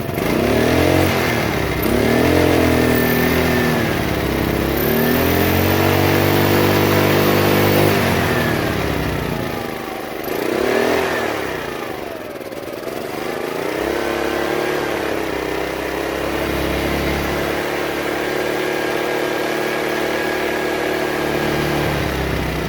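A Honda EX800 generator's small engine fires up and runs steadily nearby, its loud buzzing drone rising and dipping as the revs shift, with no talking over it.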